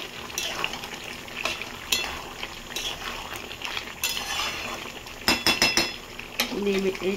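A spoon stirs ghee into a spiced dish in a pan, making a soft continuous sizzle with scraping, and a quick burst of metallic clinks against the pan near the end.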